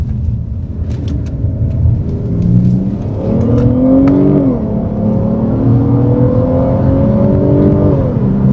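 A car running a Nissan 350Z phase 3 engine accelerates hard through the gears, its loud, close engine note climbing steadily with a brief dip at a shift, without any talk.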